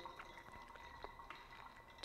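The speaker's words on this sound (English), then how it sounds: "And I'm going to pour all the way up" Hot water poured over Ethiopian coffee grounds in a Fellow Stagg dripper, a soft trickling stream with faint drips, quiet and close.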